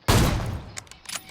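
A single sharp gunshot rings out in a mobile shooter game, followed by a fading tail and a couple of quieter trailing pops.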